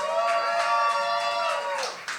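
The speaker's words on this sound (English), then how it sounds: "Keep the applause going for Alexander." At a slam poetry competition, an audience applauds a poet with steady clapping under a sustained, tonal whoop or cheer that tapers off near the end.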